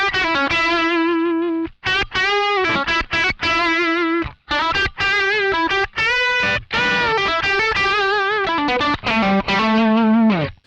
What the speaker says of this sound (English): So if I kick the tone pedal on now, the Tone Group, sorry, firstly we're not going to hear any difference.